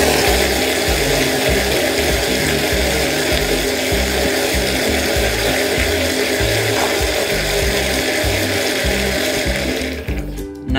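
A blender runs continuously at high speed, liquefying sopa de fideo ingredients with water, a loud steady motor whir that holds nearly unchanged for about ten seconds before cutting off abruptly at the end.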